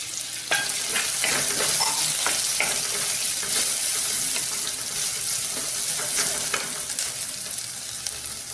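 Onion, ginger and garlic fry in a pan for stuffed bitter gourd, giving a steady, close sizzle with light stirring clicks throughout and no talking.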